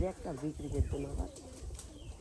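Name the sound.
pigeon cooing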